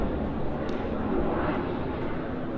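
Loud airplane passing overhead near a lakeside rental area, a broad steady engine roar filling the whole moment, with a voice faintly mixed in.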